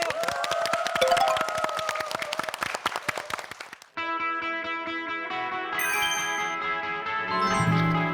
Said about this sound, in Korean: 큰 박수 많이 주세요.